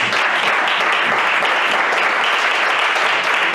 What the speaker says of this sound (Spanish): Dale palmas al Señor, dale palmas al Señor.